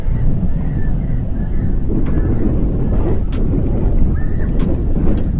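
Wind gusting outdoors at a fishing spot, a steady loud rush buffeting the microphone and continuing throughout, with faint bird calls above it.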